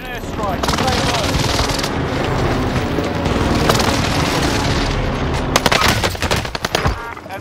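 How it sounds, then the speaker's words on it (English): A loud precision airstrike in a military video game: dense, rumbling blasts and rapid machine-gun fire merge into a continuous roar, ending in a few sharp bangs. "I want the airstrike here. Enemy precision airstrikes."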